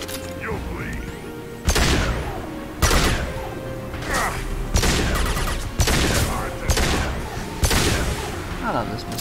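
Pistol fire in the sci-fi shooter Mass Effect 2, with loud heavy shots going off at a steady pace, roughly one per second, amid combat noise and voices.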